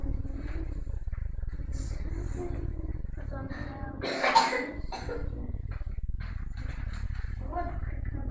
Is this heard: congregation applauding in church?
no